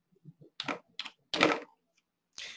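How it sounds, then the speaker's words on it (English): Short bursts of typing on a computer keyboard while entering text into embroidery design software, a few quick keystroke clusters separated by pauses, close and clear with no talking. "I'll just type in Florida."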